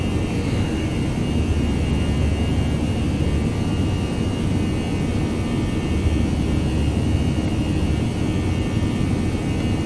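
Airbus A319 jet engines in X-Plane 11 climbing steadily after takeoff, a loud, continuous, even roar and rumble with no breaks.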